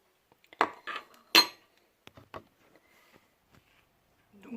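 A metal tablespoon clinks against a glass as vinegar is added and stirred, a few sharp separate taps and scrapes close by, then quiet, no talk.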